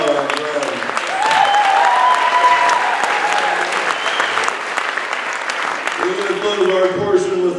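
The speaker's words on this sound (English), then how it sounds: "Let's give another round of applause for Parker Weiss." Audience applause at a high school jazz band concert, a dense, steady round of clapping from a crowd that carries through the whole clip with a voice speaking over it near the start and end.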